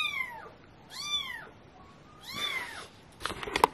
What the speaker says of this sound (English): we found a kitten in our yard